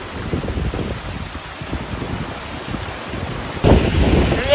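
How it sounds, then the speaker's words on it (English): Rain pouring down around someone sheltering under a tree in Jamaica, a steady broadband hiss with gusty wind buffeting the microphone, growing louder near the end. "it started to rain and I'm stuck underneath this tree."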